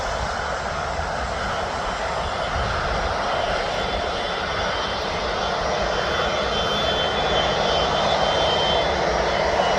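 Airliner taking off at Birmingham Airport, a steady, loud broadband engine roar that holds without a break for the full length, with no talk over it.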